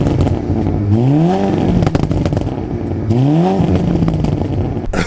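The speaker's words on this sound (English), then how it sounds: "Shall I give it a little rev? Yeah, it'd be rude not to, wouldn't it? Listen to this." A show car's engine is revved twice in quick succession, each blip rising sharply in pitch and then falling back to a rumbling idle, loud and close with no talking.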